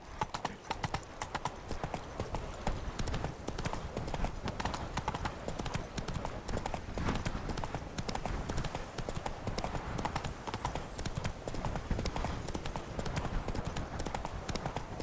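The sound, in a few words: horse Roach galloping in video game The Witcher 3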